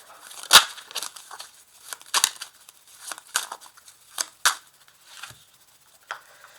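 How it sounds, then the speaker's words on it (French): Tarot cards are shuffled, drawn and handled up close, making soft irregular slaps, flicks and papery rustles with quiet pauses between, and no talking. "je vais tirer ici 2 cartes des énergies principales"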